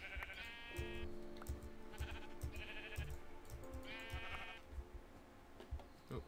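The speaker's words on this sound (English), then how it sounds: "What is that, a sheep?" Sheep in the Minecraft video game bleat several times, short wavering calls over a low background with light footstep-like thumps, with no speech on top.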